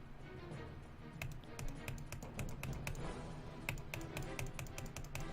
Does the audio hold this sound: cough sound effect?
no